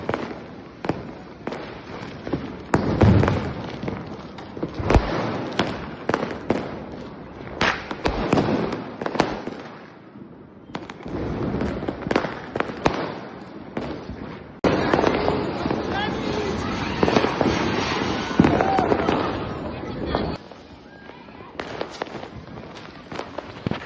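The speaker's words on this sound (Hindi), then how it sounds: "एकदम सारी तरफ स्काई शॉट, बम पटाखे, एकदम स्पार्कल, स्प्रिंकलिंग" Diwali fireworks and firecrackers bursting across the sky from a rooftop view, a dense, continuous run of loud cracks, bangs and thumps layered over steady crackling, with faint voices in the background.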